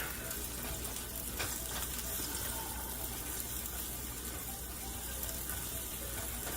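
A spatula stirs breakfast frying in a pan, giving a steady, close sizzle with soft scraping and stirring noises that runs unbroken throughout, with no voices.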